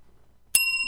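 A small desk bell is struck once to mark a point scored during a talk show, giving a sudden bright ding that rings on with a sustained metallic tone.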